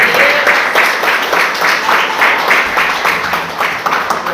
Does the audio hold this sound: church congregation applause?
yes